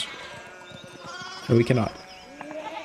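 Sheep bleating in the historical adventure game Pentiment, a flock blocking a village path near an abbey; a pair of close, loud bleats rises in the middle over a background of talk and ambience.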